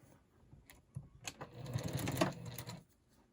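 Sewing machine stitching a seam on a quilt block, starting with a few quiet taps and then running in a short, steady whir before stopping, fairly faint and alone.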